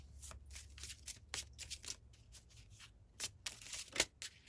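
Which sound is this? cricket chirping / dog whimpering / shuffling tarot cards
shuffling tarot cards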